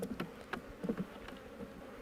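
Honey bees buzz at a beehive, a faint, close hum broken by a few brief louder passes over about two seconds.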